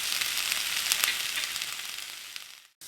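Tomatoes and ginger garlic paste sizzle in a hot pan over browned onions for a Malvani mixed kurma bhaji, a steady bright crackling fry that thins out toward the end with no talk.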